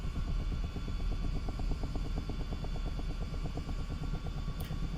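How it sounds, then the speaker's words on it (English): Chinook helicopter in Microsoft Flight Simulator 2024, a steady rapid rotor thumping over a heavy low engine drone, continuous and fairly close, with no talking. "We're kind of pre-scouting here with the Chinook"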